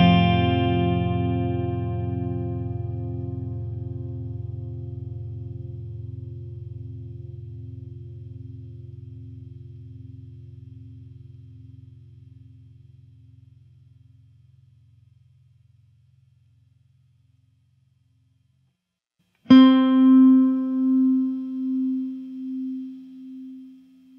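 Electric guitar through a Fortin ZUUL Mini and ISP Deci-mate G noise suppressor: one chord rings and decays slowly to silence over about fifteen seconds, then a fresh chord strikes and sustains with pulsing tremble, no voices.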